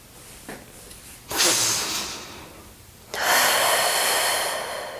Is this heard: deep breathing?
yes